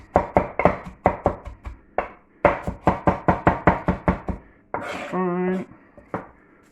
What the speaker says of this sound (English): that's why I'm chopping them this way now